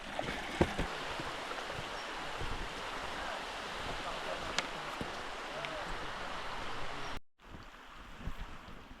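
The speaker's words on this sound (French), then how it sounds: "Toujours en longeant le ruisseau du Rec d'Argent." Steady rushing flow of the Rec d'Argent brook along a trail in the Clape hills, a continuous broadband wash of water with some wind buffeting, interrupted by a brief dropout near the end before resuming.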